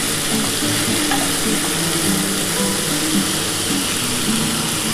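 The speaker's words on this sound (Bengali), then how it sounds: "এটা একটু লাল করে ভাজা হলে এর মধ্যে আমি হলুদ দেবো, নুন দেবো," Yardlong beans and potatoes fry in a pan, a loud, continuous sizzle with occasional stirring scrapes, close and steady with no talking.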